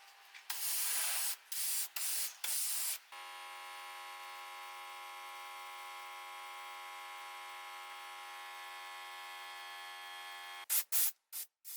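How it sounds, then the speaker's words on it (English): Bursts of a medium-sized spray gun applying a thin layer of primer to a metal RC tractor model hiss loudly in short blasts, then a steady tonal hum drones for several seconds before more quick spray bursts. "A very thin layer of primer is then applied with a medium-sized spray gun"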